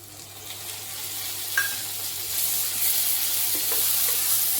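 Tomatoes being sautéed in a pan give an even, close hiss that swells gradually, with a couple of faint stirring ticks and no talking.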